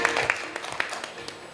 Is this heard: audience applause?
yes